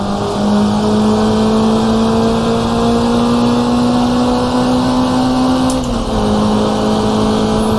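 A race car engine in the driving game GT Legends drones loud and close at high revs, its pitch creeping upward, then drops sharply with a gear change before climbing again.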